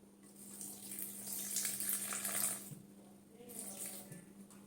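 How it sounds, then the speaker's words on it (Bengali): A small amount of water trickles and splashes into a chili mixture being readied for grinding in a home kitchen, two short pours close to the microphone with a steady hum beneath them. "কেমন একটু জল দেব।"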